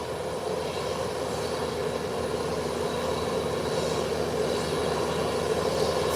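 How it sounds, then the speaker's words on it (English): An American Airlines jet coming in to land on a runway, a steady, loud roar of engines with a constant droning hum that holds throughout. "This flight is about 50 feet off the ground. And it has now safely touched down."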